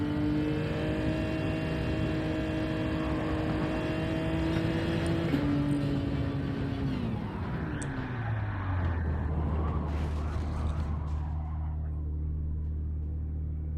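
A racing car engine in the video game Gran Turismo 7 drones steadily at high revs, then drops pitch through gear changes as the car slows, with a rushing whoosh of passing before settling into a lower idle-like hum.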